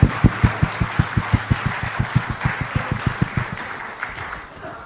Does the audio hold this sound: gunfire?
no